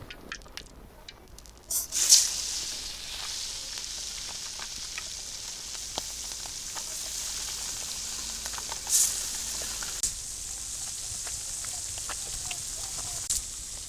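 Fish frying in hot oil on a tawa, a flat pan, giving a steady bright sizzle with louder spitting bursts near the start and again midway.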